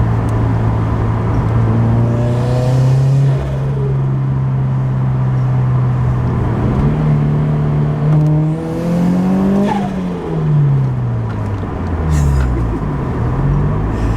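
A loud Toyota GT86 engine with an HKS exhaust revs and drops repeatedly up close, with a fluttering, chattering turbo exhaust as the throttle lifts between pulls.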